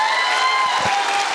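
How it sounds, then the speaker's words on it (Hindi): Applause from a seminar audience at a motivational speech event, a dense, steady patter of clapping that fills the whole short stretch with no voices over it. "मैं चाहूँगा ताली ऊंचे सर के लिए जोड़ दें एक बार"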